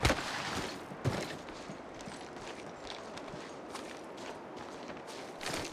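Gunshots in Apex Legends Mobile crackle in dense, rapid bursts under a constant rushing noise, with a few sharper reports standing out near the start and end.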